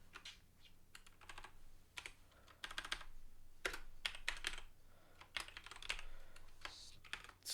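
Typing on a computer keyboard, quiet clusters of quick key clicks in uneven bursts with short pauses between them, heard close and alone.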